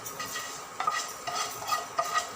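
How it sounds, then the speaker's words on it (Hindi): Hot tadka tempering poured into a pot of kadhi and stirred, giving a steady sizzle with several sharper spoon-scrape and splash bursts, close and fairly loud with no voices. "ये सारा तड़का मैं कढ़ी के अंदर इस तरह से ट्रांसफ़र कर दूँगी।"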